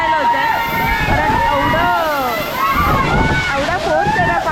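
Rautwadi waterfall pouring from a height, continuous heavy splashing and sloshing water close by, with gusts buffeting the microphone and a voice talking over it.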